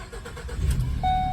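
A Ford Transit engine idles steadily after a throttle body replacement, a low continuous rumble close by with a thin whine appearing toward the end, no talking.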